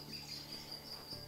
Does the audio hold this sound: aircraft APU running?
no